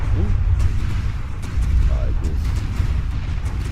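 Cannon broadside fire from a ship in a video game: a steady barrage of rumbling booms with sharp cracks scattered through it, loud and continuous, with a few faint tonal blips in the background.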